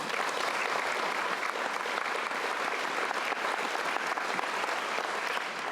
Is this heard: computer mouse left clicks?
no